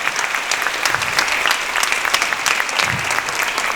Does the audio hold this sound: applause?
yes